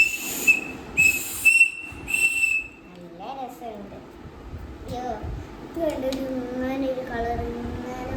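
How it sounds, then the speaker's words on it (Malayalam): A Mickey Mouse toy whistle gives three short, shrill blasts near the start. Talk and background noise follow once it stops. "Mickey whistle"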